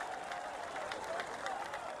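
An audience claps steadily in a dense, even patter, at moderate distance, with faint crowd murmur beneath.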